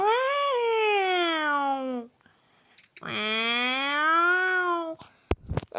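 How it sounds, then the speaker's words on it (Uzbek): A cat in the Minecraft video game gives two long, drawn-out meows, loud and close, separated by a short pause. A few sharp clicks follow at the end. "Kim ya? Mushukmi?"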